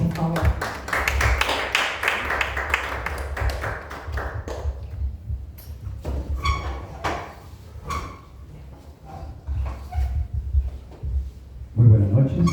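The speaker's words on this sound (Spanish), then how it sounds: "Un fuerte aplauso para Luis Alberto Horna, por favor." Dense applause from a crowd, steady clapping that thins out into scattered claps and then stops, with a voice at the end.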